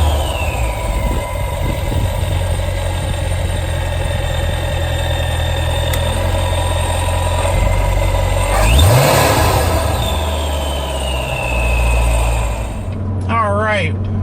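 A Procharged C7 Corvette Stingray Z51 with a 7-speed manual drives along, its engine a steady, loud drone with a brief rev rise midway, heard from inside the car.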